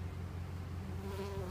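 Honey bees from a package hive buzz softly during installation, a faint, steady insect drone with a low hum throughout and a slightly higher whine near the end.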